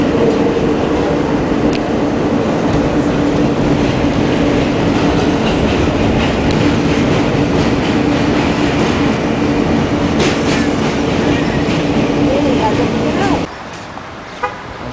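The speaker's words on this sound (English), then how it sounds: "right now, I'm on the way to the train" A train runs on its rails with a loud, steady rolling rumble and rattle of the wagons. The rumble stays constant and close, then cuts off sharply near the end, leaving quieter background sound.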